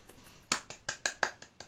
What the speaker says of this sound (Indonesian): Boleh beri tepuk tangan untuk Rakata.